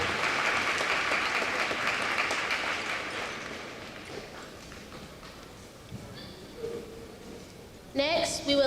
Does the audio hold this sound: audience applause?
yes